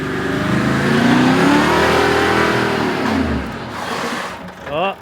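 A Toyota Landcruiser engine revs loud and close on a 4WD track near Coffs Harbour, climbing and holding before easing off, with voices talking underneath and a short shout near the end.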